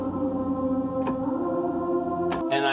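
A synth pad patch built in Serum, heard alone as a steady sustained chord held throughout, with a couple of brief airy transients and a shift in tone near the end.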